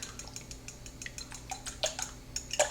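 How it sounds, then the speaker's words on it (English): A whisk beating a seasoned mixture with salt and pepper in a bowl, rapid light metallic clinks and scrapes in an uneven rhythm, close and fairly quiet. "I'm going to whisk these together."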